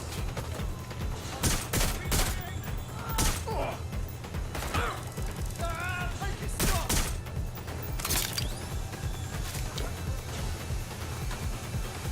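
Video game gunfire while running around shooting: rapid bursts and single sharp gunshots crack repeatedly and fairly loudly throughout, over a steady low background rumble.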